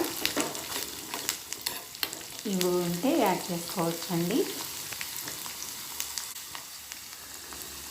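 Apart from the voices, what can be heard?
curry leaves and coriander frying and being stirred in pan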